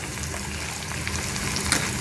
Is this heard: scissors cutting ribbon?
no